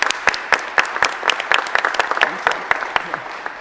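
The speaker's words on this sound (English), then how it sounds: "give them another round of applause" Applause from a school district meeting audience honoring award-winning staff, dense overlapping claps at steady strength for the whole stretch, with some voices murmuring underneath.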